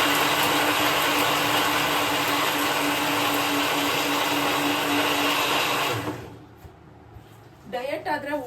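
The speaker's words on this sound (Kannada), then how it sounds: "ಇವಾಗ ರುಬ್ಕೊಂಡ್ಬಿಡ್ತಾ ಇದ್ದೀನಿ" A mixer grinder grinding fried masala whirs loudly and continuously for about six seconds, then cuts off abruptly, leaving a quiet room where a voice begins speaking.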